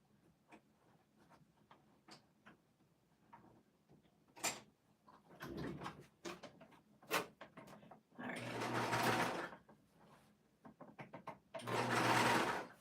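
A serger trims and sews the edges of a minky quilted sweatshirt, heard as two loud whirring runs with scattered clicks and fabric handling in between.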